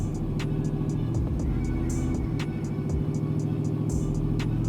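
Cammed 6.0L swapped engine in an OBS truck runs steadily on a dyno with a loud, lumpy, rhythmic idle-to-mid rev drone and sharp periodic ticks, heard alone without talk.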